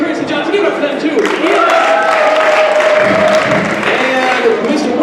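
Audience applause for the judges at a Poetry Out Loud 2024 event, a loud, sustained wash of clapping and some cheering from a crowd, with an announcer speaking over it.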